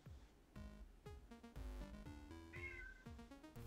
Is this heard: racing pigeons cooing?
no